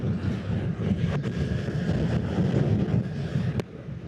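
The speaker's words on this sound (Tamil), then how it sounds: "ஆனால் நமக்கு மேலே இவ்வளோ காற்று அடிக்குது" Strong wind roars over riders on a Yamaha R3 motorcycle on the road, with a loud, steady buffeting that eases slightly near the end.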